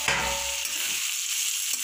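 Potato slices for aloo bhaja sizzle steadily in a pan, with a brief scrape of turning near the start and again near the end; close and fairly quiet, no talking.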